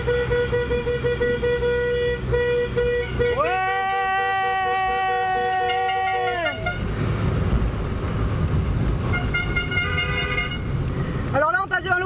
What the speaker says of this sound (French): on passe devant l'hôpital, on klaxonne pour les gens malades